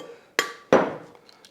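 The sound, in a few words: cracking eggs into a bowl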